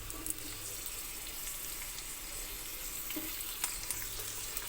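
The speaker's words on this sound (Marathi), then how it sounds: "कांदा थोडासा फ्राय करून घ्यायचा आहे." Onion and capsicum frying in a pan for white sauce pasta, a soft, even sizzle with faint occasional scrapes, fairly quiet and alone.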